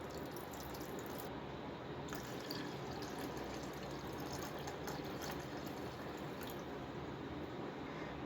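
Water steadily poured into a bowl of sathu maavu health-mix porridge powder, a continuous close trickling and splashing that runs unbroken with no voices.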